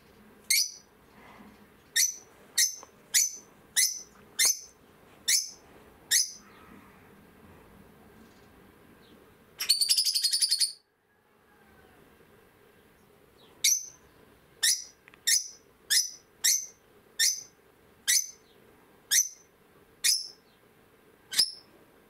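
A pet parrot gives a steady series of short, sharp chirps at fairly even intervals. A brief burst of noise breaks the series midway, then the chirping resumes, clear and close with no talking.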